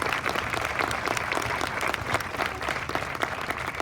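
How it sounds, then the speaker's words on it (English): Steady round of audience applause at a municipal band concert, honoring the band's board members, moderately loud and continuous. "So let's give them all a big round of applause."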